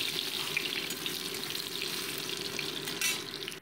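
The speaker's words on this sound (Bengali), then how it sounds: "ভেজে নিচ্ছি।" Long-cut potato pieces fry in hot oil with a cumin tempering, giving a steady, soft, close sizzle with light crackles and no talking.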